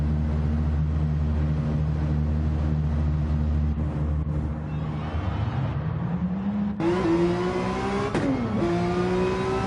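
A Honda NSX GT3 race car in a sim racing game pulls out of the pits at Catalunya on fresh soft tyres, its engine droning loud and steady, then revving up through rising gear pulls close by.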